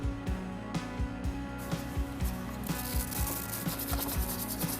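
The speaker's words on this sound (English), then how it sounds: "Then wipe it with some brake cleaner." Towel rubbing an engine part clean on a 1.9 TDI PD diesel during misfire repair, a series of close, rhythmic scrubbing and wiping strokes, steady and moderately loud.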